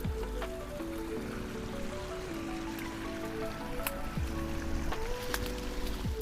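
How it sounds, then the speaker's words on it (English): A small backyard creek running full after heavy rain, a steady wash of flowing water under tonal hum and scattered faint clicks. "Our little creek, flowing real good because we just had a bunch of rain"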